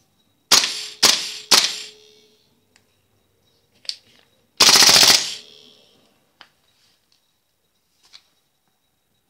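KWA airsoft gas blowback gun firing at close range: three sharp shots in quick succession, then a single shot, then a longer loud rattling burst, followed by faint clicks and quiet.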